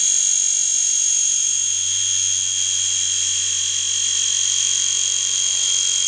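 Spinning rotor blades of a model helicopter make a steady, high whining buzz with a constant low hum underneath, loud and unbroken throughout with no voices.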